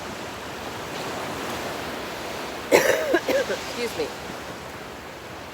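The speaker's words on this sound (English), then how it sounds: "we are live in Southwest Florida at the beach" Steady broadband wash of surf on a Southwest Florida beach, continuous and fairly even throughout, with a brief spoken voice partway through.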